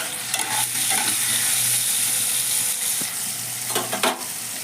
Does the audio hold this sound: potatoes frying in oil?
yes